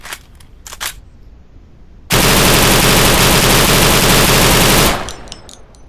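A rifle fires in the video game Deadside: a few faint clicks and shots come first, then a loud, sustained automatic burst lasts about three seconds before cutting off into a short, fading tail.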